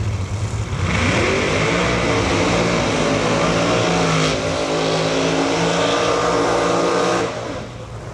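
A Pro Mod drag race car roars down the track at 217 mph, a loud, sustained engine blast that holds steady for several seconds before fading away, with no talk over it.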